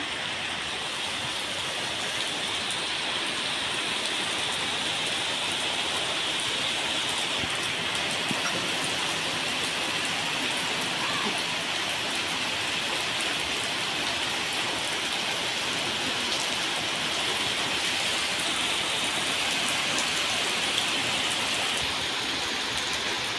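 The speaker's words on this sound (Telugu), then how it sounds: "తొలి వర్షం ఇదే" Heavy rain falls steadily and loudly, a dense continuous hiss of drops drumming on surfaces with no break throughout.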